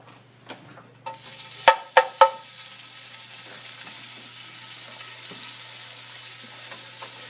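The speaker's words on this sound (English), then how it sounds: "I'm going to start by adding the bacon to the pot" Bacon renders in a pot, starting with a few sharp clunks before a steady, close sizzle and crackle that continues evenly throughout, with faint scattered pops over the hiss.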